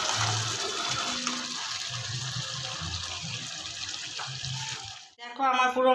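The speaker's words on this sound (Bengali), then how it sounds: "এবার আমি গরম জল দিয়ে এটাকে চাপা দিয়ে রেখে দেবো।" Hot water is poured from a tap-like stream onto half-cooked meat in a pot, a steady close gushing rush for about five seconds that then cuts off, followed by a brief voice.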